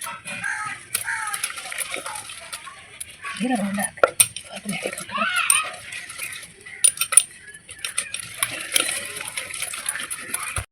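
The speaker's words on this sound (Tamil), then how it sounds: "உப்பு போட்டு கீரையை கடையணும்." Salted manathakkali greens being churned in a pot, with rhythmic clattering and scraping of the churner against the vessel, moderately close, while a rooster crows and people talk in the background.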